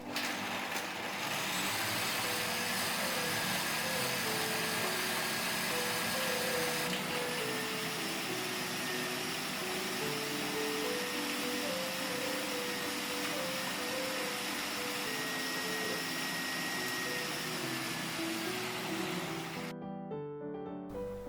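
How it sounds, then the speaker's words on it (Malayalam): Mixer grinder running continuously as it blends a blueberry smoothie, a loud steady whir that holds nearly the whole time, its pitch shifting slightly before cutting off abruptly at the end. "ഇനി എല്ലാം കൂടെ നല്ലതുപോലെ അടിച്ചെടുക്കണം."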